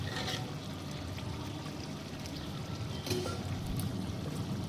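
Water being poured into a pot of chicken curry cooking outdoors at a street food stall, a continuous close splashing and gushing pour with a little background clatter and no talk.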